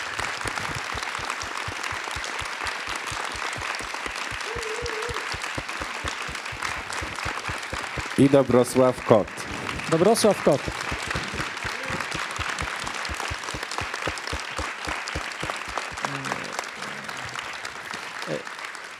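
Warm, sustained applause from an audience after a public lecture, steady dense clapping throughout, with someone briefly speaking over it in the middle.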